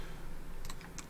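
A few quick keystrokes on a computer keyboard steering an on-screen circle in TouchDesigner, faint clicks near the end over a low steady background hum.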